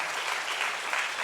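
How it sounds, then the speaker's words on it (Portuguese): A church congregation claps in praise, a brief, even stretch of many hands applauding together at moderate loudness. "eu queria que você louvasse a Deus com as suas palmas pela vida do pastor Michel,"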